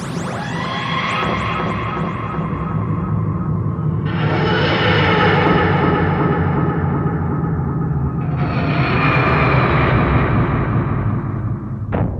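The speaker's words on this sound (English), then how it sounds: "Alright, now time to make an emergency landing." A spaceship making an emergency landing as a sci-fi sound effect, a loud, continuous roaring engine rumble that steps up in pitch and intensity twice before cutting off abruptly.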